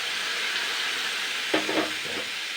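Potatoes and batter sizzle steadily in a hot pan while a spatula scrapes and stirs through them midway, close and continuous, for a cucumber dish.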